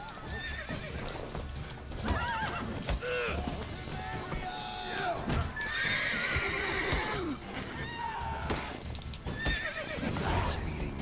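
Roach the horse in The Witcher 3: Wild Hunt whinnies and neighs while hooves clop steadily, with game combat sounds and effects mixed around it.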